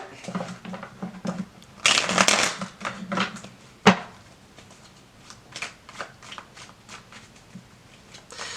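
A tarot card deck is shuffled close by, with soft papery riffles and card slides in irregular bursts, one louder flurry partway through and a sharp tap near the middle; no talking.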